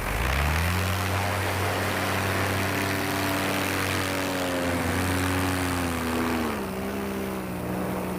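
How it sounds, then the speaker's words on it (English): A paramotor's engine and propeller drone loudly and close by, a continuous buzzing hum that shifts in pitch as the throttle changes, with no talking over it. "Paramotor."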